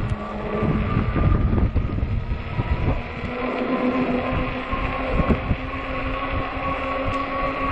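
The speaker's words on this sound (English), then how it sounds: "Wind is wicked" Steady wind roar buffeting the microphone on a 20-inch 48V fat tire e-bike during a windy night ride, a constant broad rush with gusty swells and no talk.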